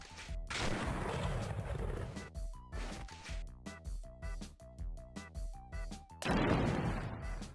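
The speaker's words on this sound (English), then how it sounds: "So the gunshot sound effects are the exact same as the retro ones" Rapid bursts of retro, chiptune-style video game gunfire crackle in irregular volleys over a steady electronic backdrop, with denser noisy blasts at the start and end.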